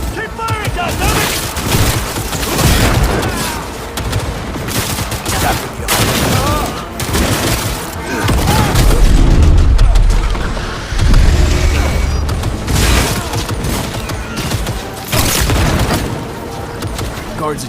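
Dense gunfire from a firefight in the video game Cyberpunk 2077, with loud, continuous bursts of shots and booming impacts layered under shouted voices throughout.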